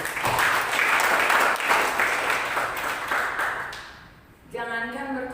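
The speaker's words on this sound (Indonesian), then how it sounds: "Tepuk tangan buat Tuhan." A church congregation breaks into loud clapping and applause that swells, holds for several seconds, then fades away before a sustained musical tone and a speaking voice come in.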